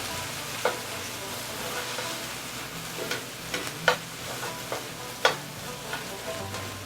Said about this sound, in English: We're going to get this stirred up now. Get those onions moved around just a little bit so the ones on top will brown.